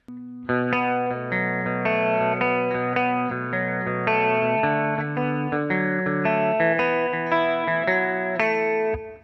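A bright, chiming electric guitar riff with shimmering effects rings out steadily, notes ringing into each other in a continuous jangly pattern.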